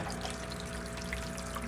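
Dirty water from a fish tank drains steadily through a hose after a valve is opened, a continuous near trickle with a faint pump-like hum and no voices.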